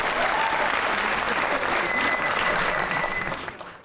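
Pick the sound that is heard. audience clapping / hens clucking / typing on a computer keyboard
audience clapping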